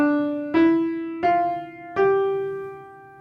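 Beginner piano piece played legato, four single notes struck one after another in a smooth connected line, each ringing into the next, close and clear with no speech.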